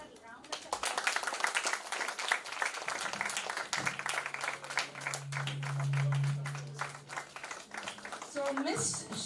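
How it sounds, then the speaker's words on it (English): Parents at a school certificate ceremony clap in a dense, steady round of applause in a hall, continuing for several seconds with a sustained tone and some voices underneath. "Parents, we would like to hear a round of applause."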